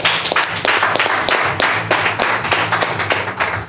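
A small group at a press conference claps in uneven bursts, with sharp, close hand claps rising and falling in rhythmic clusters.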